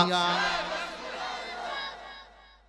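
A large crowd at a religious gathering chanting the slogan Nara-e-Takbir in unison, a loud, near, sustained chorus of voices that gradually fades.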